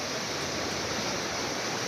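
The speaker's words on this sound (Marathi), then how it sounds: "गोडी नदी ओसांडून वाहत आहे" Godi River in Nagpur overflowing after heavy monsoon rain, a steady, dense roar of rushing floodwater that holds constant throughout with no voices.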